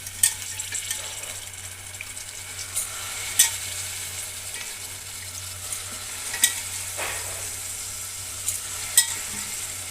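Potatoes and spices frying and being stirred in a pan for aloo pulao, a steady close sizzle with periodic scraping and clinks of the spatula against the pan.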